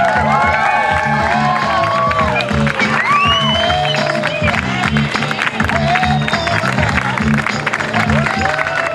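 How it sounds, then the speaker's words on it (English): Wedding guests applaud and cheer for newlyweds, a loud sustained crowd with clapping, whoops and shouts, while amplified music and voices run underneath. "Let's keep that round of applause going"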